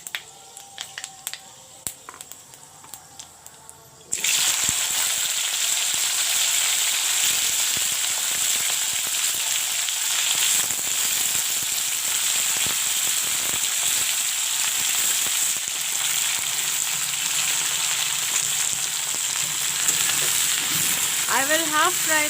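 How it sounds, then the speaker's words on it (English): Broad beans and potatoes frying in mustard oil, starting with a few scattered crackles and then breaking into a loud, steady, dense sizzle that lasts throughout. "First I will fry the seam and the potatoes and then take it out"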